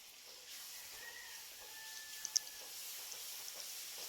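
Masala spices sizzling as they roast in a pan for a turnip dish, a faint, steady hiss with soft crackles and a couple of small pops, quiet and continuous.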